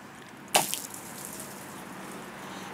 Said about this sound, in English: we're going to put some water down on the deck.